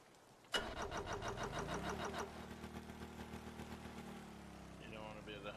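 An engine starts up in a boat and train building video game: a sharp crank catches, then a steady mid-pitched idle hums on with a slight throb, and a faint whine enters near the end.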